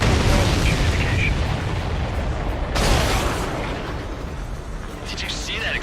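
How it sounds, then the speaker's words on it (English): A large explosion in the jet combat game Ace Combat 7, a dense rumbling boom with a sharp burst partway through, fading into a steady roar of battle and engine noise. "Did you see that explosion?"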